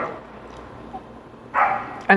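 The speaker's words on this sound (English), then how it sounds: "These dogs, man." Dogs barking nearby, with two short loud bursts of barks after a quieter stretch of low background noise.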